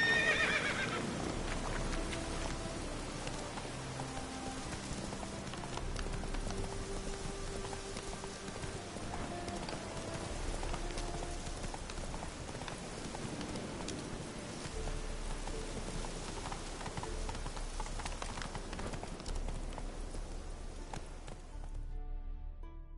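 A horse gallops through rain in The Witcher 3, with rhythmic hoofbeats, a whinny and steady rainfall under orchestral game music, all at a moderate level.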